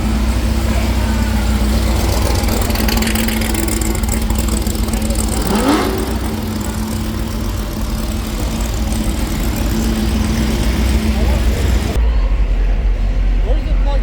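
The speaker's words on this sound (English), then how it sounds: "It's Canada's fastest Hellcat" A Hellcat car engine idles at the Motorama 2025 car show, a steady low rumble that holds for the whole stretch while people talk nearby.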